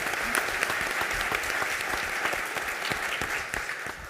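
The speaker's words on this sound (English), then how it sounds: "How about a round of applause?" Theatre audience at a law school event applauds steadily, dense clapping from many hands filling the hall without pause, fairly close and even in loudness.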